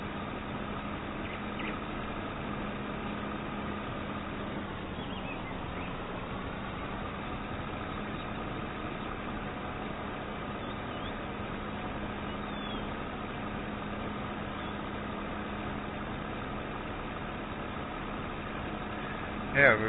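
A farm tractor fitted with pallet forks idles in the snowy countryside, a steady low engine drone with a constant hum that barely changes over twenty seconds, heard from a short distance with one brief knock at the end.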